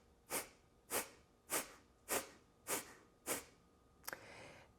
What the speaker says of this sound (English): a passive inhale through the nose and then a short, sharp exhale through the nose